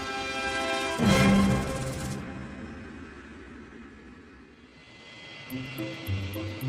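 A British Airways Boeing 777 departs Heathrow Airport with a loud, broad jet engine roar that swells, then slowly fades into a distant rumble. Tonal whines rise and fall above it.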